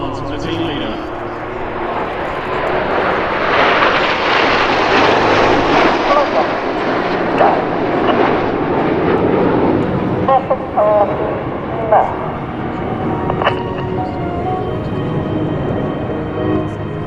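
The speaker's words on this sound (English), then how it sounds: "As the jets sweep in from the right-hand side and the smoke comes on shortly" RAF Red Arrows jets sweep over the EAA AirVenture Oshkosh airshow, a broad, loud engine roar swelling and fading across the sky with crowd noise and a commentator talking throughout.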